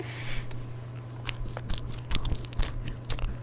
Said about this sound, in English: I have gingerbread in my mouth.